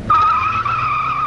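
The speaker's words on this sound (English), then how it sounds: "Put them on the Bruntingthorpe test track, safely away from the public roads, bury the throttles and watch the difference." Two 1987-era Volkswagen Golf GTI mk2 hatchbacks driven hard on a test track produce a sustained, loud tire squeal that begins abruptly and holds steady for about a second.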